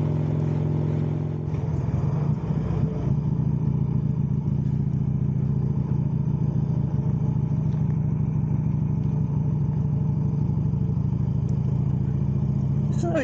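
A Buell XB9SX motorcycle being ridden on roads near Alcester in the UK, on the way to a bike meet. Its engine drones steadily and close throughout, with no talking.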